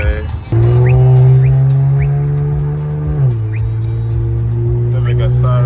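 A loud twin-turbo Infiniti Q50 drives through traffic in upstate New York with a strong, steady engine drone that shifts pitch partway through as it changes gear.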